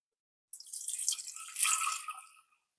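Coconut milk strained into a small clay pot makes a steady trickling, splashing pour lasting about two seconds, near and fairly quiet, surging slightly midway before tapering off.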